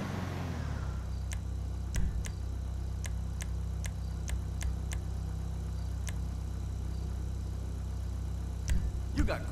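Annis 300R car engine in GTA 5 idling with a steady low rumble throughout, while sharp clicks from the game's menu sound at intervals.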